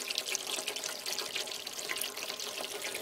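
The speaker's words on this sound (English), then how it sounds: "as water starts to flow out, it drags air with it" Water from an aquaponics scale siphon drains out of a glass, a steady, close gurgling flow with air being drawn along, continuous and fairly loud throughout without any talk.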